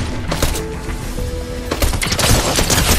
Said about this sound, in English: It's literally someone shooting me right now.